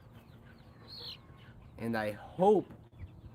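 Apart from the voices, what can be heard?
chickens clucking on a farm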